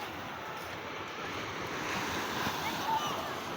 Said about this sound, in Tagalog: Yan, lakas dahil ang alon.